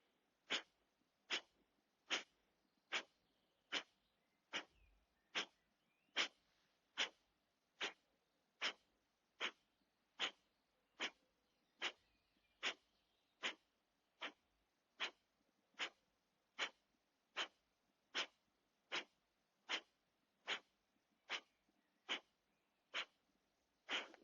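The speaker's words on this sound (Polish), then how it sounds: "I zacznij 30 razy w umiarkowanym tempie oddech kapalabati." Some thirty rapid, forceful nasal exhales of kapalabhati yoga breathing, done in bed after waking, each a sharp even puff at a steady moderate pace, close and alone with no talk.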